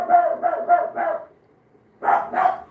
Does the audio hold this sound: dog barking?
yes